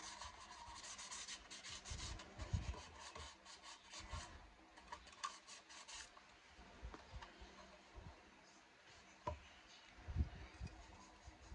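Sandpaper rubs in short scratchy strokes on a 1955 Ford panel model truck during weathering, a close, quiet rasping that comes in bursts with pauses between.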